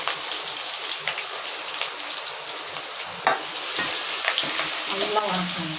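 Onions sizzle and fry in hot oil with ginger and green chili, a steady close crackling hiss with faint stirring scrapes throughout.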